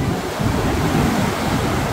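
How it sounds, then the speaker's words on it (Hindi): Steady broadband rush of wind and surf on a nearly empty beach at Auroville at 6:30 in the morning, loud and continuous with no voices. "ठंडी तरोताज़ा फ्रेश हवा चल रही है।"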